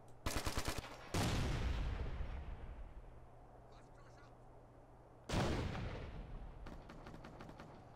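Crossfire in Ghost Recon: Future Soldier: a quick run of sharp gunshots, then heavy booming blasts that ring out and decay, another loud burst later, and more scattered shots at the end.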